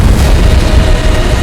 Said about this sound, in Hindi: भारी धमाका, मलबा सड़क पर बिखर गया।